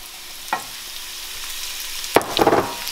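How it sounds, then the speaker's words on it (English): Kabocha squash added to a pan of cooked garlic for a stir fry, with a couple of sharp clatters and a burst of sizzling near the end over a quiet background, close by and without speech. "So now I'm gonna put the kabocha squash."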